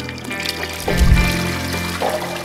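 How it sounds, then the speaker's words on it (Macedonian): Untreated household wastewater from kitchens and toilets in Gostivar pours into the Vardar river, a steady rushing, trickling flow with a heavier splash swelling midway, close and continuous throughout. "Водата од кујните и тоалетите во домакинствата директно завршува во Вардар."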